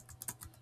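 Soft, fairly faint keystrokes on a computer keyboard as a search is typed into a web browser, heard as a short run of light clicks at an even pace.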